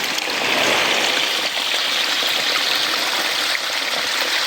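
A steady rush of mountain stream water flowing over rocks in the Zile mountains, close and fairly loud, continuous with a bright splashing texture and no voices.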